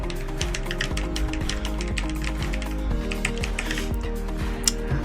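Rapid typing on a mechanical keyboard with modded blue switches, a dense run of quick keystrokes with a soft, creamy tone, close up, steady and with no voices.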